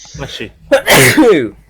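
A single sharp sneeze bursts out close by, preceded by a brief breathy intake, with a short voice murmur just before it.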